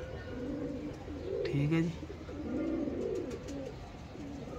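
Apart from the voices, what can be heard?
pigeons cooing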